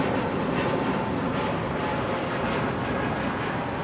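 China Airlines airliner at Heathrow, a dense continuous jet engine roar, loud and steady throughout, with no voices.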